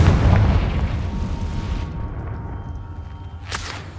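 A Confringo fire spell explodes in Hogwarts Legacy with a heavy, booming blast that rumbles and fades over a few seconds, ending in a sharp, crackling burst.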